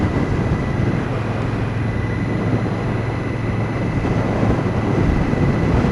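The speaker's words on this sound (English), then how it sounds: "I'm really feeling the wind smack me right in the chest" Wind roars continuously past a rider on a 2017 Victory Octane motorcycle with no windscreen, a loud, dense buffeting rush with a faint engine drone beneath.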